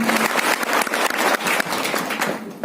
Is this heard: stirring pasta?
no